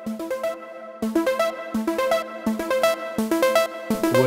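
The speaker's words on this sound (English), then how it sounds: "And now with the chorus, it sounds a bit more differently." Synth lead and arpeggio run through a Roland JUN-6 chorus effect, a bright rhythmic pattern of repeating stepped notes with short pauses between phrases, steady and upfront with no voices.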